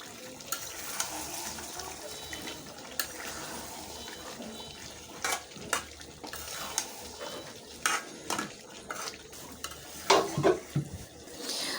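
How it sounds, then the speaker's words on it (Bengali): Potatoes being added to duck meat browning in a pot and stirred, with scattered clinks of a utensil against the pot and soft scraping over a steady background hiss. "এখন আমি এর মধ্যে দিয়ে দিচ্ছি আস্তে আস্তে আলু"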